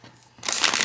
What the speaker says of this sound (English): So I'll riffle it, and of course I can overhand it beautifully.